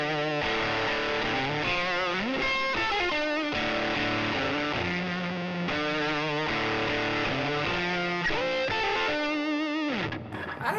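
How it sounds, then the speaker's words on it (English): A Snap Dragon Snap Axe E folding travel electric guitar plays a run of chords and riffs through fuzz distortion, gritty and sustained, loud and continuous with no talking. "Here, let's do some fuzz. Let's just do some fuzz."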